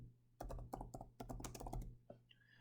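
Rapid typing on a computer keyboard, a close burst of clustered key clicks with brief pauses, followed by a faint tone near the end.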